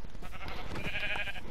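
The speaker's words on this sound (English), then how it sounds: "Come here, sheep." A farm sheep in a video game lets out a single wavering bleat lasting about half a second, mid-level in volume over a steady background hum.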